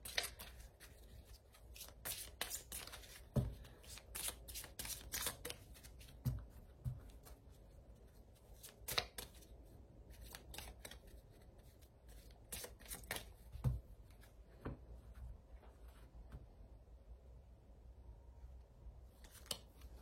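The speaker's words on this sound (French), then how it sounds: "Oh, je suis obligée de rebattre." Oracle cards being shuffled by hand, a run of crisp riffling and flicking slaps at close range with irregular bursts and short pauses, no talk.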